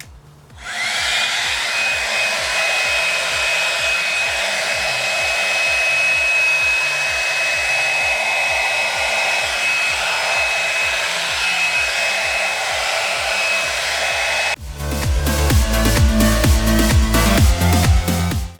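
A Plavogue one-step hair dryer blows steadily and loudly with a constant airflow whine, then near the end shifts to a harsher, rougher roar as it moves against hair; no one speaks.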